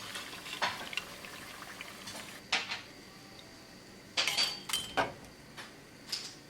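Fried sooji vada are set onto a plate with light clinks and scrapes of utensils against dishware, heard as scattered close taps over a faint background sizzle.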